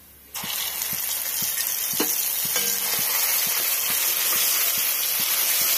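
Mustard paste frying in a hot pan for a fish and okra curry, a steady close hiss that starts abruptly and holds level, with faint light clicks underneath.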